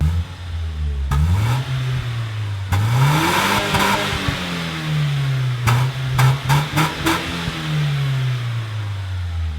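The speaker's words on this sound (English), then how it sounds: "And here's me revving the car." A BMW E36 engine revs up several times, rising and falling in pitch from a low idle, close and fairly loud, with a few sharp clicks.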